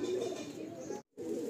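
Lalsira pigeons in a loft in Behala coo continuously in a low, throaty drone, close and fairly soft. A brief silent gap breaks it before the cooing resumes.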